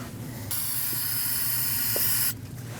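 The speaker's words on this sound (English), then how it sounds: "I'm going to use some brake parts cleaner to rinse it." Brake parts cleaner sprays from an aerosol can onto the front brake of a 2013–2019 Ford Escape during a brake bleed: one steady, loud hiss lasting about two seconds, close by, with a low engine-like hum behind it.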